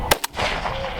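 Two shotgun blasts ring out during a dove hunt, loud and close outdoors, the first sharper than the second, followed by a rumbling tail.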